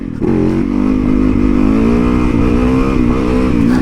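A motorcycle engine revs hard and continuously while the rider pulls a wheelie, a loud, close, sustained roar that rises and wavers slightly in pitch, with no voices over it.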